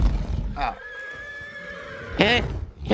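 A horse neighs twice, a long whinny at the start and another near the end, the first fairly loud and close and the second clear and sustained, with a few brief hoof or background sounds between.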